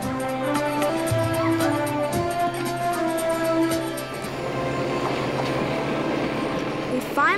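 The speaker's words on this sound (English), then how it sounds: "the trains in India aren't comfortable at all and they rattle like crazy" Moving train in India rattling steadily, with tonal hum and metallic rattle filling the whole stretch, loud and continuous, a squeal rising near the end.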